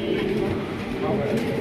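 Red check racer pigeons cooing in a loft collection, a soft low murmuring coo that runs steadily beneath someone speaking close by.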